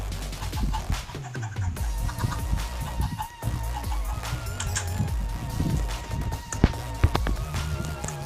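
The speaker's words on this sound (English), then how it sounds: "Let's just grab some chickens." Minecraft chickens cluck and squawk steadily up close, with footsteps and scattered game sounds mixed in.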